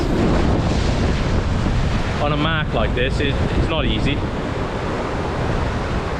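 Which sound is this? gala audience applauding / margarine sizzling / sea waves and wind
sea waves and wind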